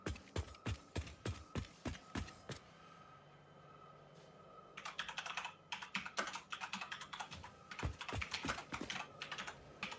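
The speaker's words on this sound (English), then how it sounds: "Clickety clack, clickety clack. Sounds like conveyor. Sounds like Garrett on his computer." Keys clatter on a computer keyboard in quick bursts, a series of sharp close taps at first, a brief lull, then faster dense typing, no voices.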